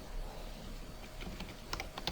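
Typing on a computer keyboard while writing C code, a quiet uneven patter of key clicks that thickens into a quick cluster toward the end, no speech.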